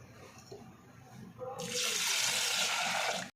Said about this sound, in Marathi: याला स्वच्छ असं धुवून घेते दोन पाण्याने